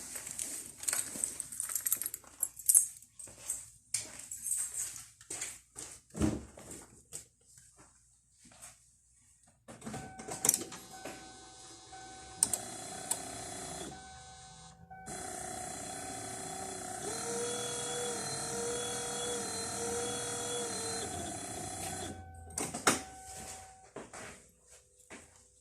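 Windshield wiper motor on a 2005-2010 Kia Sportage runs during a bench test after replacement, giving a steady whirring drone with clicks and clunks around it, fairly faint and close, with no talk.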